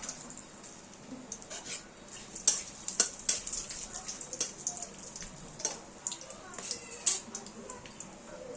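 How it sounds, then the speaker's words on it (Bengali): Bay leaves and garam masala frying in hot oil for a Bengali basanti pulao tempering, giving a steady crackling sizzle with sharp pops and spits scattered throughout, close and moderately loud. "এইবারে আমরা এখানে তেজপাতা আর গরম মশলা নিয়েছি, সেটা আমরা ফোড়নে দিয়ে দিলাম"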